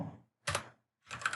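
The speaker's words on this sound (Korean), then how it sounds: "여기다 그냥 타이핑으로" Keystrokes on a computer keyboard while a department name is typed into a Revit MEP 2017 field, heard as two short bursts of clicking separated by silence, close and fairly quiet.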